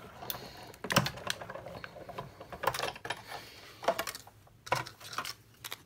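A hand-cranked die-cutting machine feeds paper and a stitched-edge metal die between cutting pads, giving a steady run of close, quiet mechanical clicks and ticks with no voices.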